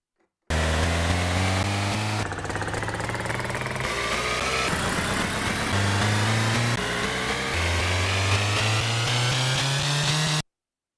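A car engine idle sample plays on a Waldorf Blofeld synthesizer, a steady buzzing drone that jumps between several pitches in distinct steps, clean and continuous, then cuts off abruptly.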